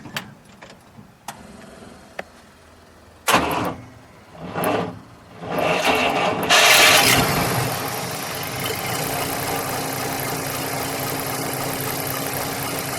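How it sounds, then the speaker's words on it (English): A 1947 Cadillac Series 62 engine cranks with a few sharp clicks and whirring bursts, then catches and settles into a steady, smooth idle that runs on loudly. "fire it up. We'll listen to it start."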